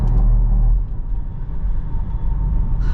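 Inside a Mercedes-Benz GLC300 4MATIC cruising on a highway, the cabin fills with a loud low rumble of road and engine noise that holds steady throughout, with a brief higher hiss near the end.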